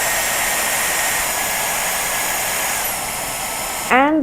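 A Dyson AirWrap hair styler blows a steady, loud broadband rush of air for about four seconds, then cuts off abruptly, leaving a short rising electronic beep tail.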